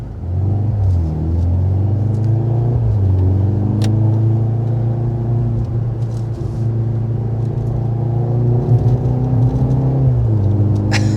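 A 2023 Mercedes C43 AMG with 4MATIC all-wheel drive accelerates along a road, its engine a loud, close, sustained rumble with rising revs and a brief gear change near the end, no talking.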